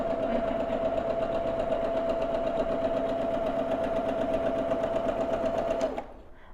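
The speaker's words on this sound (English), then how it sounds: "this machine is a little bit louder than the one I was sewing on at home last night" A sewing machine running steadily while piecing a quilt top, a close, loud continuous whir with a fine rapid stitching rhythm that stops abruptly near the end.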